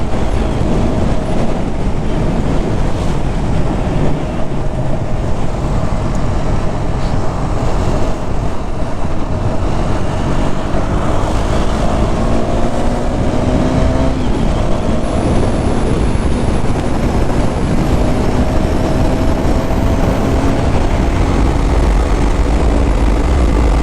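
KTM Duke 390 motorcycle out on the road, engine note rising and falling through gear changes under heavy, constant wind roar buffeting the rider's microphone.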